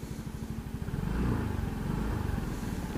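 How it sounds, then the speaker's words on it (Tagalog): A Yamaha Mio Gravis scooter engine idles with a steady, quiet low hum and a rough, pulsing rhythm, close by, rising slightly in loudness midway and holding even to the end. "Napakatahimik ng makina nito."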